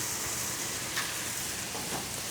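Pasta simmering in a tomato puttanesca sauce in a pan gives off a soft, steady sizzle and bubbling, faint and continuous, with a couple of light stirring scrapes.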